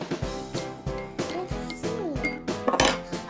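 A spoon clinks and rattles against cups while slime is mixed, producing a quick, uneven run of bright, close-up ringing knocks throughout.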